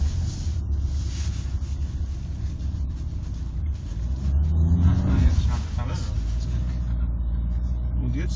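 A BMW xDrive car climbing a snowy slope in Hinterglemm, Austria, heard as a steady low engine rumble from inside the cabin that swells briefly as it pulls harder, with people talking throughout.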